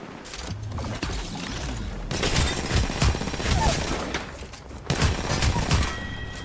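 Gunfire in the battle royale shooter Apex Legends comes in bursts of rapid shots mixed with mechanical clicks and impacts. The firing is loud and near, swells in the middle and flares up again near the end.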